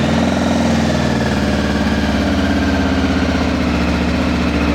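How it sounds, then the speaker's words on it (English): A Honda motorcycle engine, just started, idles roughly with a suspected exhaust blow, a loud, steady, close low rumble with an uneven pulsing beat throughout and no talk. "So I've just managed to get it to start. So it sounds a bit rough"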